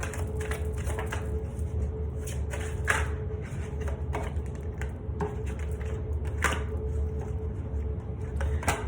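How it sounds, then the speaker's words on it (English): Angel Therapy oracle cards being shuffled close up, producing repeated soft riffling and slapping bursts in a steady rhythm against a low background hum, with no voices. "I'm pulling cards from another deck, from Angel Therapy."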